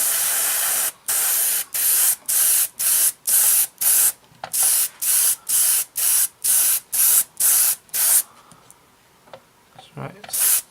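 Airbrush or spray can laying a base coat onto a Hasegawa 1/48 Messerschmitt Bf109E-3 plastic model kit, loud close hissing bursts in a steady series of about fifteen short sprays, then quiet handling with brief talk.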